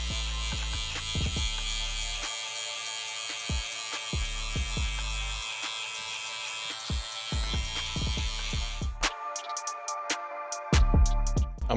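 Hair clippers fitted with a 4 guard cutting hair in a barbershop, a sustained electric buzz broken by repeated short bursts and pauses as the blade passes through, with the motor switching off near the end.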